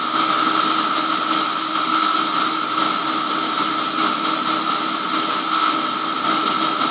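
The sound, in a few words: Emco F1 CNC milling machine cutting 6082 aluminium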